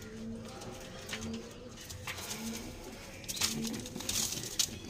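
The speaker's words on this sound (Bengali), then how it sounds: "এটা টুর্নামেন্ট খেলা পায়রা, এটা আমি ছেড়ে দেবো।" Tournament racing pigeons cooing in soft, repeated low calls that recur steadily over faint background noise, with a few brief brighter chirps near the end.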